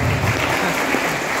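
An audience applauds at a Malayalam mimicry stage show: dense, continuous clapping from a crowd, loud and close, lasting the whole moment without a break.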